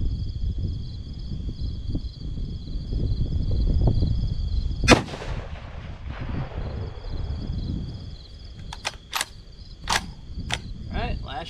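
A 6.5 Grendel rifle firing a 120-grain Nosler Ballistic Tip round outdoors on a breezy range: one sharp, loud shot mid-clip with a brief echo, over wind noise and chirping insects.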